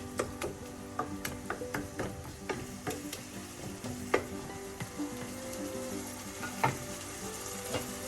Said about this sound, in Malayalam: എല്ലാത്തിൻ്റെയും പച്ചമണം മാറുന്നത് വരെ ഒന്ന് വഴറ്റാം.